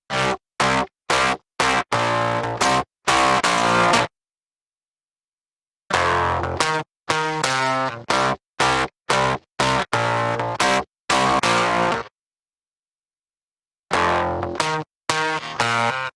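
Driven guitar through a Reason Scream distortion set to modulation plays choppy, gated chugs and sustained chords in bursts separated by silent gaps, harsh and buzzy with a warbling modulated edge.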